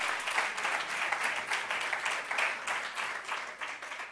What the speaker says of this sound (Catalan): I jo us demanaria un aplaudiment per aquest jovent